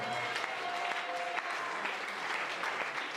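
A church congregation applauding, steady dense clapping from many hands sustained throughout, heard at a moderate distance with a faint room echo.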